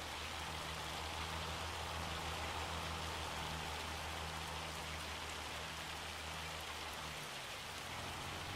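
Rain falls in the farming video game Farming Simulator 25 as a soft, steady patter under a low droning hum that cuts out near the end, with no talking.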